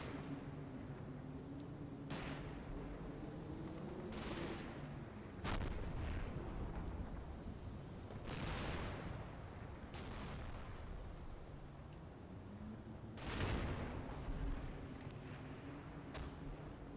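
Mortar rounds land in a video game battle, a string of heavy booming impacts spaced a few seconds apart over a steady rumble of engines and distant battlefield noise.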